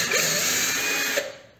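Power drill fitted with a 10 mm bit boring a hole without hammer action, a steady loud whine running continuously and then winding down at the end.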